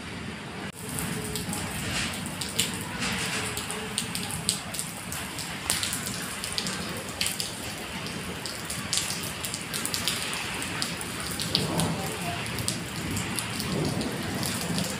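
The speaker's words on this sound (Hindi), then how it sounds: "बारिश तेज़ हो गई है" Heavy rain pours steadily, a dense hiss of drops drumming on surfaces with a low rumble underneath, loud and constant throughout.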